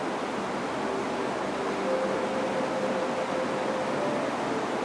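Steady running water, a soft continuous hiss at low level with no distinct splashes, heard alone in a quiet room.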